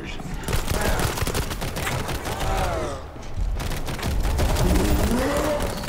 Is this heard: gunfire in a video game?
yes